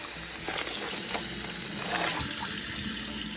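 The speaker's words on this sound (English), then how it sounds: "So what I'm gonna do is I'm just gonna rinse it out." Water from a kitchen tap gushes steadily while a plastic baggie is rinsed under it, giving a continuous splashing hiss with faint crinkles, close and constant throughout, with no talking.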